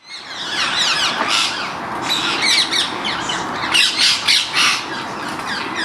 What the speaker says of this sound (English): this noise they're making at roosting is a way of sorting out pecking order, perching posts for the night